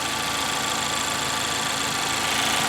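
A 2019 Mazda Miata ND's four-cylinder engine idling with the hood open, a steady, even hum and mechanical whir heard close up, unchanging for a few seconds with no talking.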